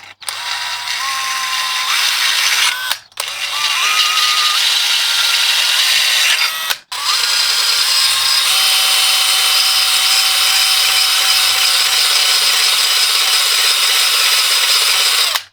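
A drill-powered sharpener grinds the edge of a lawn mower blade, a loud, steady whine in three long passes separated by two short pauses, close and without talk.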